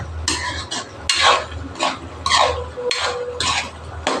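Ground pork menudo is stirred in a metal cooking pot, with a utensil scraping and clanking against the sides in an uneven, repeated rhythm.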